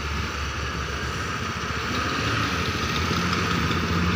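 A stopped Ashok Leyland 4925 truck sits with its engine idling, giving a steady, unbroken rumble at even loudness throughout, with no voices.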